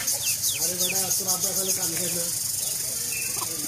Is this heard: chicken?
yes